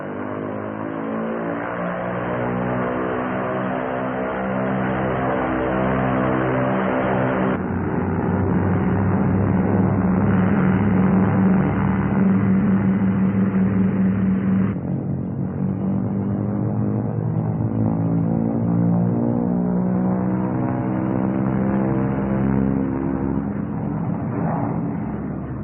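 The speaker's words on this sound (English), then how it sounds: "throttles advanced to get maximum allowable manifold pressure." A P-38 Lightning's engines roar at full-throttle run-up, advanced to maximum allowable manifold pressure, as a loud, sustained, harmonic drone whose pitch steps up twice and then holds steady.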